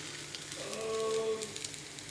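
A lachha paratha fries in a little white oil on a hot pan, a continuous soft sizzle and hiss running close and steady, with a brief faint tonal whine rising midway and no talk.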